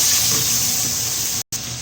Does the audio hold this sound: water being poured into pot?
yes